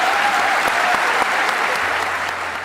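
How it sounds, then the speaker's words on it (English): A close, loud round of applause from an audience at a West Point fireside chat, steady hand claps with no voices. "please give him a round of applause"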